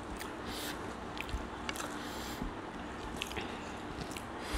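Close, soft squishy chewing of mashed potato bharta mixed with fried onion, with quiet repeated mouth sounds and faint clicks at a steady pace.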